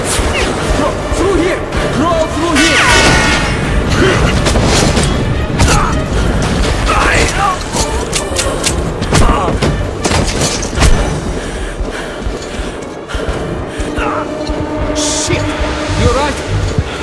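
Gunfire and crashing explosions in the video game Metro Last Light, a dense, loud barrage of shots, bangs and mechanical clatter running throughout, with shouted voices mixed into the chaos.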